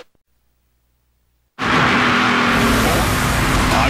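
NASCAR Canadian Tire Series race cars roaring past on the Trois-Rivieres street circuit, a sudden loud, sustained engine blast that cuts in after a second and a half of near silence and stays full and close.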